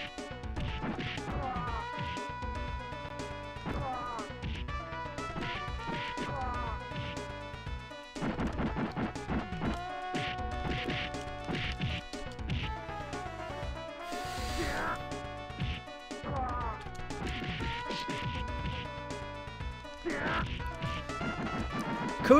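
Busy retro Super Nintendo fight scene from Final Fight: repeated punches, smacks and crashes over constant chiptune-style music, with brief voice bits, dense and loud throughout.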